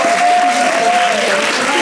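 Audience applause at a monthly club meeting, a dense, steady clapping that fills the whole short stretch at close range, with a faint thin tone running beneath it.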